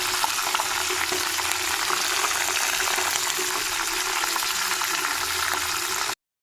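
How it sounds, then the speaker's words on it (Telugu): Green chillies and peanuts fry in a pan with cumin and coriander seeds, a steady, dense sizzle running close and loud for about six seconds with faint stirring scrapes, then cutting off abruptly. "పచ్చిమిర్చి పల్లీలు ఇవన్నీ వేగిపోయినాయి"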